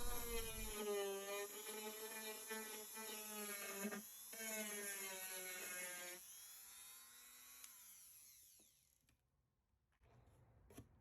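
A small rotary tool whirs steadily, its pitch rising and falling as it sands a resin piece, then winds down and falls nearly silent.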